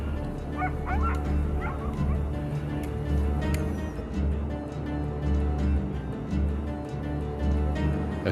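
Pack of sled dogs in a Greenland town kennel area barking, yipping and whimpering, many overlapping calls at mid distance over a continuous low engine rumble.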